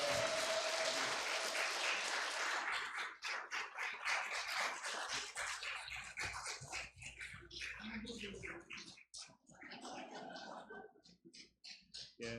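A church congregation in Seattle applauds together at a Sunday service, a dense, loud wash of clapping that gradually thins and grows patchier, with scattered individual claps near the end.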